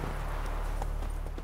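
Hooves of a horse in The Witcher 3 video game clatter in a fast, rhythmic gallop under a loud, low rumbling background.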